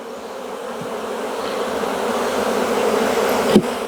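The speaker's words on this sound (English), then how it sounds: "we gotta figure out what to do with all these bees right here" Honeybees buzz around an open beehive during frame work, a steady close swarm drone that grows slightly louder, with a brief knock near the end.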